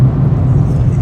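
A person imitating a car with their voice, a loud, low, steady engine-like drone held for about a second, close to the microphone.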